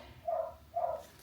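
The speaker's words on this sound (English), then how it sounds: "Can you hear that dog?" A dog barks twice in a home, the muffled barks spaced about half a second apart and heard at moderate distance with no speech over them.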